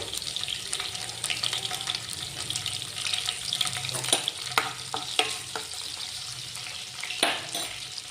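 Crushed ginger and garlic frying in hot oil for chicken liver fry, a bright continuous sizzle up close, punctuated by quick scraping stirs and clinks of a spoon on the pan, no talking.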